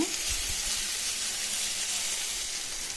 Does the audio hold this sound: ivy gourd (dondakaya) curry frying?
yes